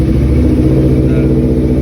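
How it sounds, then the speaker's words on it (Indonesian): A Honda CBR250RR motorcycle engine runs loud and close, a steady dense mechanical roar with no talking over it. "Nah, kurang lebih suara motornya kayak begini guys."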